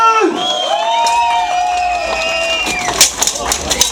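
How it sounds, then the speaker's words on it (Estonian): A crowd at a sword fighting match cheers with loud whistles and whoops, then breaks into a scatter of claps. "Aplausid!"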